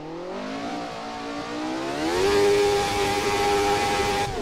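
A 1991 Jordan 191 Formula 1 car at the Nürburgring, its engine screaming as it climbs through the revs with a sharp rising pitch, then holding a loud, steady high wail, close and without talk.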